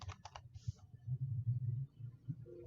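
Keystrokes on a computer keyboard while entering router configuration commands, a quick burst of clicks followed by softer, close, irregular tapping.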